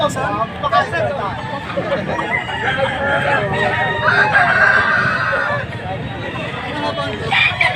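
Gamefowl roosters, three-year-old fighting cocks for sale at a market, crow repeatedly nearby amid clucking, while people chatter in the background.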